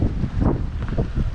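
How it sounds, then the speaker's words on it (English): Strong wind buffets the microphone outdoors at a fishing pier in Stockton, California, in a continuous low, gusty rumble with no one speaking. "Ridiculous wind out here in Stockton too."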